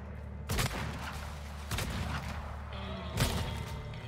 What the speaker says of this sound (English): I just shot my own guy.